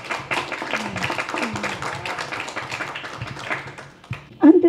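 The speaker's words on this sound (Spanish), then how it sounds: "le recibimos también con un fuerte aplauso" An audience at an independent publishers' event in Tabasco applauds steadily for several seconds, with voices mixed into the clapping; a single speaking voice takes over as the applause ends.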